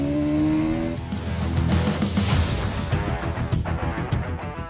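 A motorcycle engine revs hard and loud to around 7,000 RPM, its pitch climbing and roaring steadily close by, with a rough, growling edge throughout.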